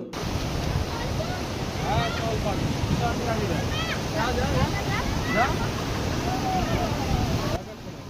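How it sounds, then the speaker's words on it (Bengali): A small waterfall at Rishop in North Bengal pours with a constant broadband roar close by, with faint bird-like chirps above it, before the sound drops slightly at the end. "শুনতে পারলেন ঝর্ণার কত সুন্দর আওয়াজ"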